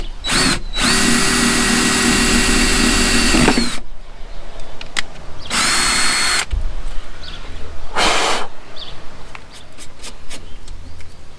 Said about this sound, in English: We got our 5/32 drill bit ready.